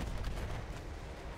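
Dense, continuous booming cannon fire in Battlefield 1, heavy low rumble with repeated blasts running together throughout.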